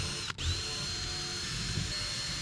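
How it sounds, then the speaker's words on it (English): A power drill whirs steadily as it bores pilot holes in wood for hinge screws on a shed door, close and continuous, with a brief dip near the start. "So now I'll drill the rest of my pilot holes."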